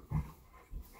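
A Cane Corso dog making short, low growls while playing, two brief rumbling bursts close by in a quiet room.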